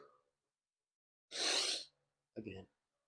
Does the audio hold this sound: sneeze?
yes